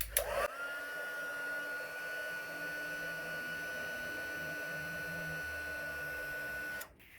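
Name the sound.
heat tool melting Altenew Antique Gold embossing powder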